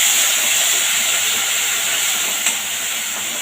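Water poured into a pan of hot spiced pumpkin curry with bay leaf gives a loud, steady, steamy hiss that holds for the whole stretch with no talking.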